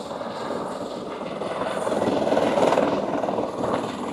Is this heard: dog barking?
no